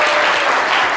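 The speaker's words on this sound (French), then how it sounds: "Applaudissements bien fort." A crowd applauds loudly and steadily in a continuous wash of clapping for about a second, with no pause or break.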